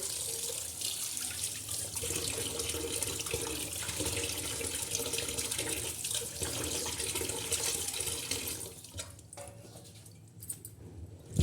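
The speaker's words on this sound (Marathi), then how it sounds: "स्वच्छ चांगल्या पाण्याने आपण धुणार आहोत" Wild leafy greens rinsed under a running tap, a steady broadband rush of water with splashing that eases off near the end, no talking.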